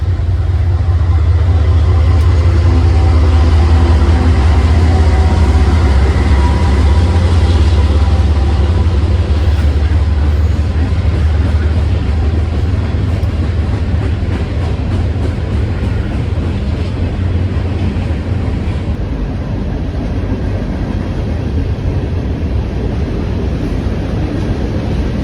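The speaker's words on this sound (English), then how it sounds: "after the one train went by" A train rumbles past near the Defiance River, a loud continuous low roar with rattling and wind buffeting that persists for the whole stretch without speech.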